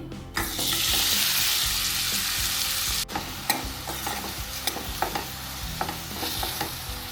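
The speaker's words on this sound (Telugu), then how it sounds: "సేమ్ ఆయిల్లోకి మనం కట్ చేసి పెట్టుకున్న ఉల్లిపాయ పచ్చిమిరపకాయ వేసుకోవాలి." Chopped onion and green chillies drop into hot oil, already used for frying salted fish, with a loud burst of sizzling that settles into a steady fry, then spatula stirring knocks and scrapes against the pan.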